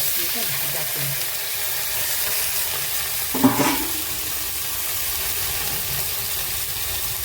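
Potatoes and onions fry in oil with nigella seeds, giving a constant close sizzle and a single scrape or clink of stirring midway.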